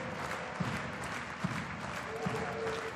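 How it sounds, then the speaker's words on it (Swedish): A home crowd at an ice hockey game claps in steady unison, evenly spaced beats over a constant arena roar, distant and moderately loud. "Taktfasta applåder från hemmapubliken"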